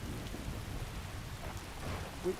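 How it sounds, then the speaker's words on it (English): Steady rainfall in the Skyrim game world, a continuous close hiss of falling drops with a low rumble underneath and no voices over it. "it's still raining again"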